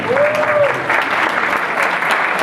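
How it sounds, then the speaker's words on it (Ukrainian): A crowd claps in steady, dense applause at a Ukrainian carol concert, filling the whole moment with no voices over it. "Оплески."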